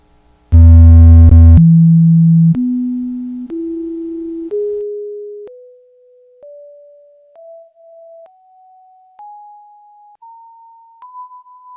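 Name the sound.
isolated sine wave component frequencies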